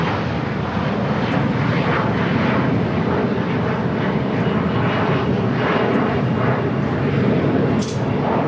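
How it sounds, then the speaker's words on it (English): An Embraer E-175 jet departs Los Angeles airport for San Diego. Its engines give a loud, sustained roar that stays even and close for the whole stretch. "There's this flight out right now, E-175 to San Diego."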